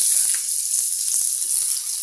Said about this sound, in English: put some nice olive oil in it. Oh, sizzle.